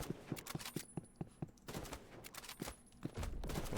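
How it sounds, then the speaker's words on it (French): Gunfire in a Roblox video game: a rapid string of sharp, close shots in an uneven rhythm, dense at first, thinning in the middle, then returning, with no talking. "Et essayer de prendre le sniper par derrière."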